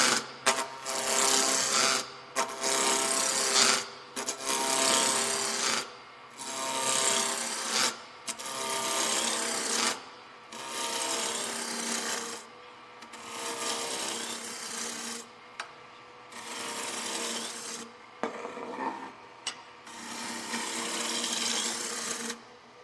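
A roughing gouge cuts a wooden peppermill blank spinning on a lathe, a loud, continuous rasping hiss broken into repeated passes with short pauses, close up and without talk.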